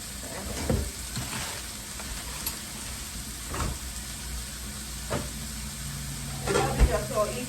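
A beef patty fries in a pan with a constant soft sizzle, broken by occasional clicks and clatters of utensils and cookware nearby.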